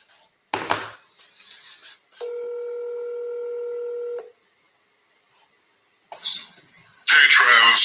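A cell phone is dialed with a quick keypad tone, then a long steady dial-type tone, before brief rustles and a burst of louder noise close by.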